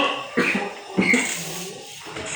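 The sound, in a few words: cough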